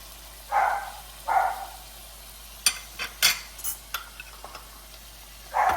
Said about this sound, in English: We're going to saute these for only a few minutes because shrimp does not take long to cook.